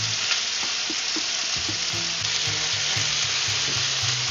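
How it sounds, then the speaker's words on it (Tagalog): Veal browns in a hot pan with a loud, continuous close sizzle and crackle, while a utensil occasionally stirs and scrapes through the frying. "We have to brown off our veal,"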